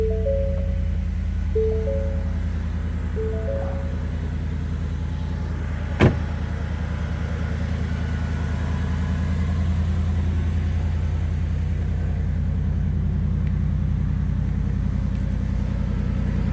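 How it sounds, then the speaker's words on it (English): A 2020 Shelby F-150 Super Snake pickup truck engine idles after a cold start with a steady low rumble, with a few short chime tones early on and one sharp click partway through. "I will do a cold start while we're in here"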